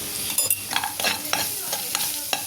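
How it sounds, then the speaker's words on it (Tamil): Onions sizzle and crackle in a hot pan, with a spatula stirring and scraping in irregular strokes, close and steady, no voices. "இப்போ வதங்கிட்டுருக்கு பாருங்க அது நல்லா வதங்கிக்கிட்டு இருக்கு"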